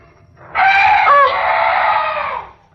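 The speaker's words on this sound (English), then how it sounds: "Oh, some night bird." A weird night bird call, used as a sound effect in an old-time radio drama, rings out as one sustained harsh cry of about two seconds over a faint low background, with no speech.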